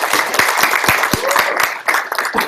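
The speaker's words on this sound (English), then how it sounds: "You're a round of applause." Audience applause breaks out at a student union meeting, a dense wash of claps at steady volume over about two and a half seconds, with a few louder individual claps standing out.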